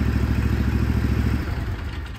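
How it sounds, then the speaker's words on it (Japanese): Engine of a radio-controlled lawn mower running nearby, a loud, steady low chugging with a rapid even pulse that eases slightly toward the end. "じゃあエンジンをかけました"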